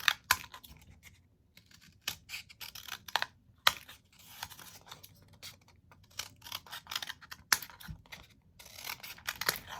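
Scissors snip strips from a paper towel roll, producing quiet, close, irregular bursts of crisp cutting and rustling with short silent gaps in between.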